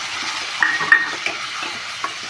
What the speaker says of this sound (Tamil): லைட்டாக நல்லா வசக்கிட்டு வெங்காயம் இன்னும் கொஞ்சம் வசக்கணும்